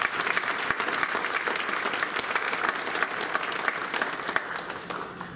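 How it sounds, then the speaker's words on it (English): A crowd at a National Honor Society ceremony applauds board members and the superintendent, dense clapping that stays loud and even for several seconds before easing off at the end. "Please give all of them a well-deserved round of applause."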